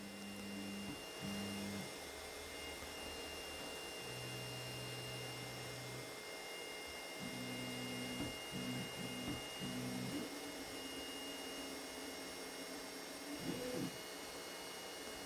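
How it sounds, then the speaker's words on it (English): Low motor whines and hums rise and stop in short bursts over a steady mechanical drone as a Neptune 4 Plus 3D printer head moves to its home position, quiet and close. "The printer is moving the printer head to the home position."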